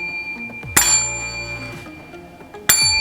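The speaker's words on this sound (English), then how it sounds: "And please don't forget to hit this bell." Two bright dings of a notification bell sound effect, each a sharp metallic strike ringing out with a shimmering decay, separated by about two seconds.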